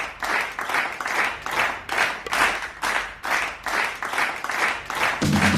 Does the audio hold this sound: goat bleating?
no